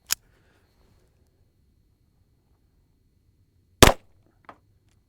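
.22 Long Rifle shots fired at a salt block, two sharp cracks several seconds apart with a small faint pop after the second, close and alone with no talking.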